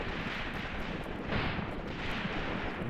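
A mine detonates in the World War II tactics game Graviteam Tactics, a sustained, muffled roar of battlefield explosion and rumbling gunfire that swells around the middle and stays dense throughout with no pauses.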